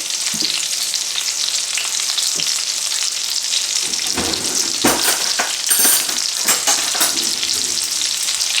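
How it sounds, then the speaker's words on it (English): Steady, loud sizzling of pork chops frying in a pan, with occasional clinks and scrapes from handling, no voices. "Pork chops are frying up nicely."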